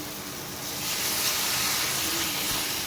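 Onion and tomato puree frying in a pan give a continuous, even hiss and sizzle that swells slightly midway and holds steady throughout, close with no speech.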